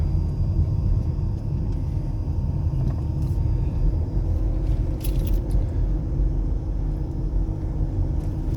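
A 2014 Porsche Cayenne Diesel driving at low speed gives a steady, muffled low rumble of engine and road noise heard from inside the cabin, with no talk.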